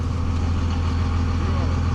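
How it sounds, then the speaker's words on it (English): Cummins 2500 24-valve turbo diesel pickup with a big lift, a loud, steady, low diesel rumble that holds at an even level throughout. "Cummins 2500, 24 valve, turbo diesel."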